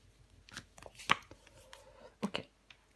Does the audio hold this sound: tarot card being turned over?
yes